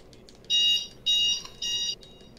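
An alarm clock rings in three loud, evenly spaced bursts of high electronic beeping, each lasting about half a second, with quiet gaps between them.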